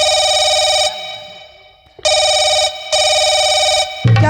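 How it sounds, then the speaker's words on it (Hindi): A telephone rings loudly in a repeating electronic pattern, with several bursts separated by short gaps, during a Hindi village nautanki folk-theatre performance. "आपका फोन आ रहा है।"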